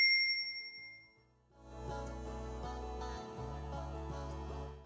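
A bright notification bell dings once at the start and rings out, then a warm musical backing swells in under it at moderate, steady loudness.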